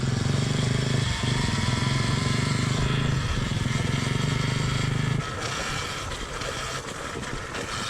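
Alta electric dirt bike ridden close by: a steady, loud electric motor whine with road and wind noise holds for about five seconds, then drops to a quieter, rougher drone.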